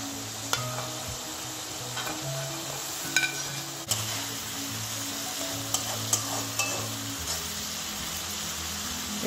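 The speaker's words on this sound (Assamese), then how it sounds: "ভাজি লোৱা বৰালি মাছখিনি মই ইয়াতে দি দিম" Fried Wallago attu fish pieces stirred into a tomato masala sizzle steadily, with close spatula scrapes and occasional pan clinks throughout and no talking.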